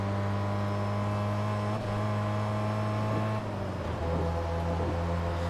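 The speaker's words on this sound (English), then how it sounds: "this is literally just a Lotus Evora" A Lotus Evora's engine drones at steady speed in the racing game Test Drive Unlimited 2, a loud, continuous hum whose pitch dips at a few gear shifts and then climbs again.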